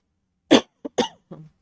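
Several short coughs from a woman with an irritated throat, not illness: one strong burst followed by three lighter, spaced hacks, close and clear in a quiet room.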